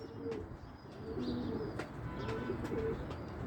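Musawwar pigeons coo softly at a distance outdoors, a few low repeated calls mixed with faint chirps over steady background noise.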